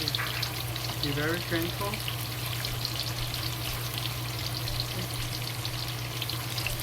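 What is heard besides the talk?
tofu frying in oil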